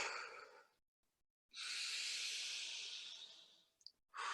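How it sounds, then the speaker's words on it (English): Close, breathy hissing from a breathwork session: one long exhale trails off, a pause, then a sustained deep breath swells and fades, with another breath starting right at the end. "Keep breathing into those sensations being created within your body."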